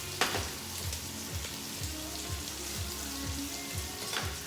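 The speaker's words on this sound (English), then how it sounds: "So I got 2 sprigs of rosemary and 1 garlic clove. It goes into the oil." Two sprigs of rosemary and a garlic clove sizzle in hot oil in a pan beside a ribeye steak, a steady close frying hiss with faint pops throughout.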